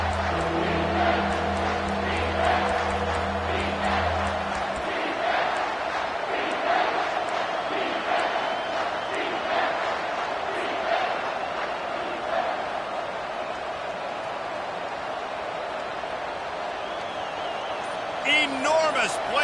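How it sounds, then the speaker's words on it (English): A football stadium crowd roars loudly before a third-down play in an LSU game, a dense, sustained wall of cheering and noise from start to finish, with a voice talking over it. "Third down, and this crowd is bringing down the house"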